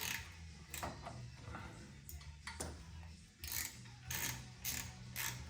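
A hand ratchet turns out a bolt on a KFI A3000 winch during a motor repair. Quiet bursts of ratcheting clicks repeat in short runs.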